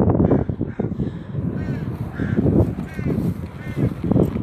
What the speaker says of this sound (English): The crows were sitting over here